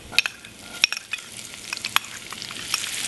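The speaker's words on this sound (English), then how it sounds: "So we're going to add the onions now because our bacon's starting to lightly brown." Onions added to lightly browned bacon frying over low heat in a Le Creuset pot, a steady crackling sizzle with sharp pops and spatters scattered throughout, close and alone without voices.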